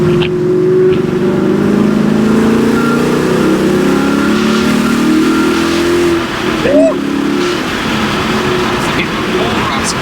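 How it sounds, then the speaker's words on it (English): A car with a louder, raspier exhaust revs and drives at close range, giving a sustained engine drone that rises and falls under the road noise. A voice speaks briefly over it. "That's even more raspy. That drives completely different. Wow. I'd say the exhaust is even louder."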